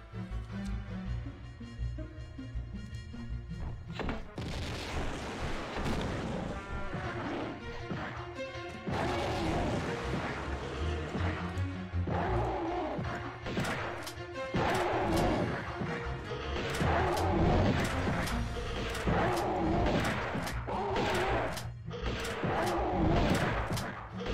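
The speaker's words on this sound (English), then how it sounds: "I'm gonna take grenade launcher, pop them at first." Grenade launcher fire in the Tomb Raider II game, a dense run of loud, close blasts and crashing impacts in quick succession over a continuous game soundtrack.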